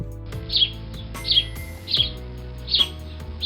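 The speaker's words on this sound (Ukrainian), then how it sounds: "А це маленький сіренький горобець" A small sparrow chirps four times at an even pace, bright short calls close by over a faint background hum.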